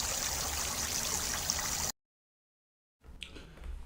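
Water spraying onto a water surface in an aeration setup to let air in and methane escape, a steady close hiss and splash that cuts out abruptly, then returns fainter after a silent gap.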